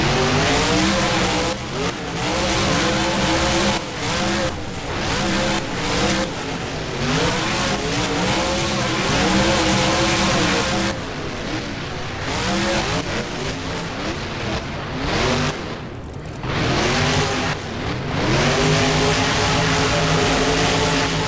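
Monster trucks race in a stadium in the BeamNG video game, with loud, continuous engine roar that revs up and down and tires squealing throughout.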